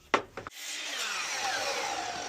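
A saw cuts through a wooden panel for a zome frame: two sharp knocks first, then a continuous, close, rasping cut that holds steady to the end.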